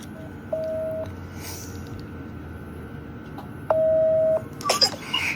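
A phone call being placed: two steady electronic tones, a short one then a slightly longer one a few seconds later, sound over quiet room hiss, with a brief burst of other noise at the end.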